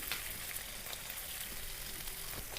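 Onions sautéing with chilli powder and coriander in a pan, giving a steady even sizzle with a few faint stirring scrapes, moderately quiet and close, no talking.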